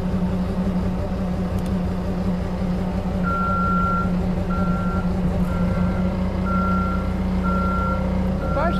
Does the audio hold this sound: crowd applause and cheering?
no